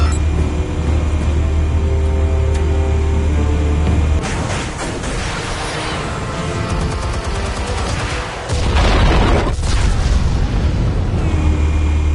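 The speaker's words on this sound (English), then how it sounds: "Explosives armed. Fire when ready." Explosives detonate in the Telltale Batman video game: two heavy, booming blasts with crackling debris, set against a constant low rumbling drone.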